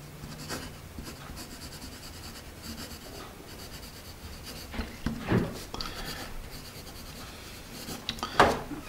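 A Dixon Jumbo finishing pencil scratches across paper in steady, close strokes with soft rubbing texture, a couple of brief louder scrapes standing out near the end.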